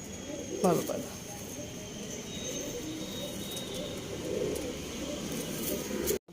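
Pigeons in a loft coo steadily throughout, close and moderately loud, with a brief sharp rustle or flutter near the start and a sudden cut at the end.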